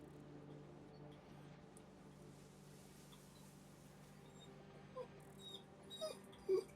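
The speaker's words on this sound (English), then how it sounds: "It's a very loud bark you have." A dog whimpers and whines faintly under low steady game noise, then gives a few short, louder yelps near the end.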